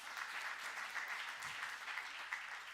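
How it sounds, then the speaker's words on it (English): Audience applause at the Old Mutual Indaba business event after a speaker's talk: a faint, distant and steady patter of many hands clapping without pause. "Let's give him one more round of applause."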